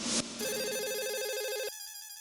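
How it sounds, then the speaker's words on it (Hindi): A telephone rings when calling a school, with a warbling electronic ring tone heard clearly for over a second after a brief burst of noise, then fading to a quieter tone. "हाँ पोपट अंकल, वो स्कूल में फोन करके आप कंफर्म कीजिए ना"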